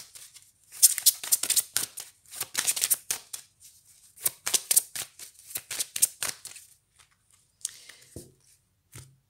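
Oracle cards are shuffled close up in quick riffling bursts, then a card is drawn and set down with a soft slap, all without any talking.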